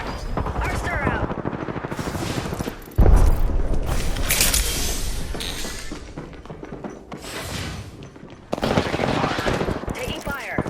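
Rapid automatic gunfire bursts and booming shots from the video game Apex Legends, loud and close, with a heavy impact near the middle and a renewed volley at the end.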